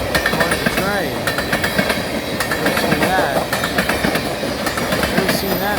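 An empty northbound crude oil freight train passes, led by CN AC44C6M, ex-CN C44-9W and SD70M-2 diesel locomotives and pulling tank cars, with loud, steady rhythmic clickety-clack of wheels over rail joints close by.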